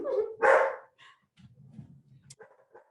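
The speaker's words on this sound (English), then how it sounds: "I have 2 dogs, and they're very upset that my dad just left." Two house dogs upset and barking, a loud close bark at the start followed by softer yips and whimpering sounds.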